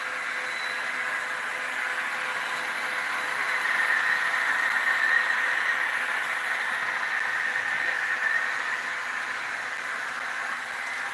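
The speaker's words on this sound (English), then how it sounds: "I think that was actually a wheel slip sound we just heard there" A model train locomotive's wheels slip on the track, producing a steady hissing, whooshing noise that swells slightly in the middle and runs for several seconds without speech.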